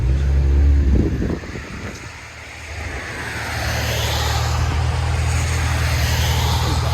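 A BMW X5 M40i 3.0L with a Dynomax race bullet resonator, 2.5-inch pipe and true dual exhaust: a loud engine burst, a brief dip, then a rising rev held as a steady droning exhaust rumble.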